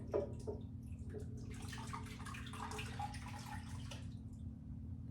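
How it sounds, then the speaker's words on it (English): Brine poured over a pork loin in a crock pot, a soft close trickle and splashing of liquid lasting several seconds, quiet over a low steady hum. "I'm taking this brine and I'm just gonna pour over it"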